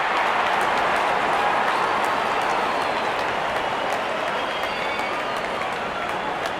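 Cricket crowd at a Pakistan versus West Indies match cheering and applauding as the opening batsmen walk out, a dense, steady roar of clapping and voices throughout.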